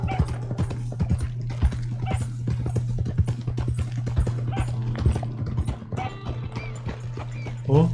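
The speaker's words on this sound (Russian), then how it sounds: "Это стук копыт." Horse hooves clip-clopping steadily in Red Dead Online, a close, rapid rhythmic trotting over a constant low hum, with a dog barking briefly and a faint voice near the end.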